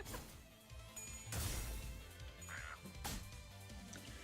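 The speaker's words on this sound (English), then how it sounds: "Bro, the chicken sounds are so cute." Chicken sounds in the video game Limbus Company: short, quacky squawks popping out in a few separate bursts alongside sharp thwacks and impacts over a busy game soundtrack.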